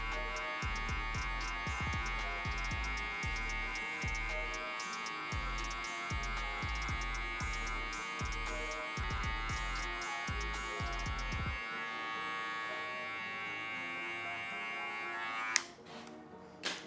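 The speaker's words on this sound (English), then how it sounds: "I'm kind of just leaning in one side of the clipper to it." Electric hair clipper buzzes steadily and close while cutting a mid fade with a 2 guard and the lever fully open, with rhythmic low thumps of the clipper pressing against the head; quiet throughout, with brief handling noises at the end.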